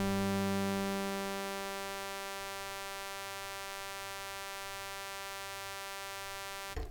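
An Arturia Modular-V software synth tone rings out while a high-pass filter sweeps away its low end over several seconds, beginning full and loud, then thinning to a steady buzzy drone with a faint pulsing low hum, ending in a brief click.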